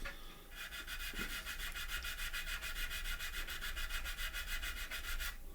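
A power sander grinds steadily across wood with a fast, even rasping pulse, close and continuous for several seconds before stopping.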